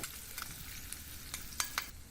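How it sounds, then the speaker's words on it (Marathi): Mustard seeds, cumin, curry leaves and chopped green chillies sizzle in hot oil for a tempering, with sharp crackling pops and a few scraping stirs close up. "मोहरी व जिरे तडतडल्यावर हिंग पाव छोटा चमचा कढीपत्त्याची पाच ते सहा पाने दोन हिरव्या मिरचीचे बारीक तुकडे परतून घेऊया"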